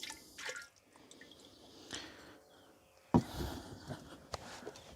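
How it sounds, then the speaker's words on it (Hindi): Milk poured into a homemade trichoderma mixture that already holds Glucon-D: a quiet scene with faint drips, then one sharp liquid splash and gurgle partway through. "अब हम डालते हैं दूध, जो कि पूर्ण रूप से अपने आप में एक"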